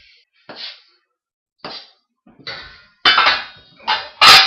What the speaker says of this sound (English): I'm going to slice the chilli up nice and small.